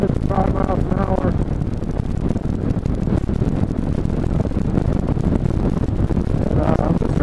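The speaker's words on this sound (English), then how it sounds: "I'm not really trying to talk over the wind or anything like that." Heavy wind buffets a helmet-mounted microphone on a ride at 55 mph, a constant low roar filling the whole stretch, with a faint voice briefly audible near the start and end.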